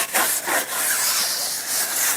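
A brush scrubs cleaner over brake dust on a Toyota Camry wheel, making rapid, rough, close-up bristle strokes in a dense, continuous scratching.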